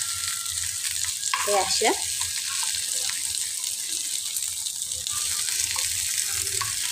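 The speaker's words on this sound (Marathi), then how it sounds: "आपण एकदा पलटी करून घ्या भेंडी" Stuffed okra, Maharashtrian bharli bhindi, frying in oil in a kadhai, giving a steady, close hiss of sizzling that runs throughout, with a brief spoken phrase partway through.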